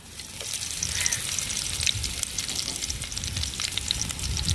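Curry leaves, mustard seeds and urad dal crackle and sizzle in hot oil in a pan, a loud, steady, close frying hiss with small pops throughout.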